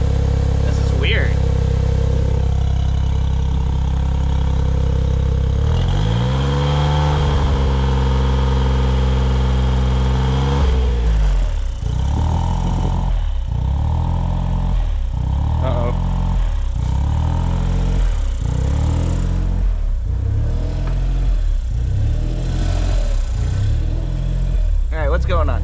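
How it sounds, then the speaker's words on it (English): A Suzuki Cara Autozam AZ-1 kei car engine fitted with a Keisport PNP runs close by, rising in a smooth rev, then settling into a steady idle with rhythmic pulsing throughout. "I think this is the smoothest I've ever heard my engine run."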